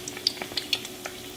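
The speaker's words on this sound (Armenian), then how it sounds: "այսպես տապակում ենք" Potato patties fry in a pan on an electric stove, giving soft, scattered crackles and light pops in a brief, quiet burst.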